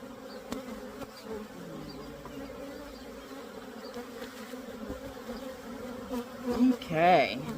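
Honeybees drone in a strong, freshly opened hive being split, a steady close hum that holds throughout and swells louder near the end as the frames are lifted.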